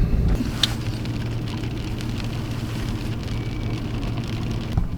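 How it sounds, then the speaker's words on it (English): Hail patters steadily on the roof of a parked car during a -30 degree winter storm, a dense, continuous rattle with a low hum underneath and no talking. "as soon as we park, it starts to hail"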